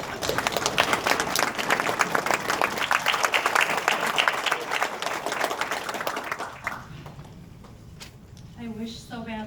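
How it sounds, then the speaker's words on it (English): A crowd gives dense, sustained clapping and applause for about six seconds. It then fades out, and a voice follows over the dying claps. "I think it's only right we give you guys a round of applause"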